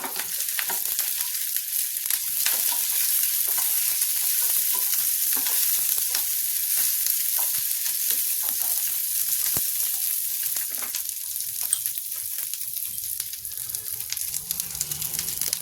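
Green chillies sizzling steadily in very hot oil on a gas stove for a sweet-and-sour chilli pickle, a loud continuous hissing fry with faint crackles and stirring, no talking.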